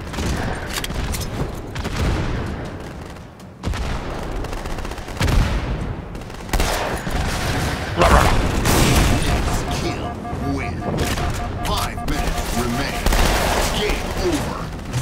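Rocket explosions and bursts of rapid gunfire in the video game Halo 2: Anniversary on the Beaver Creek map, dense and continuous with booming blasts, with a player talking over it.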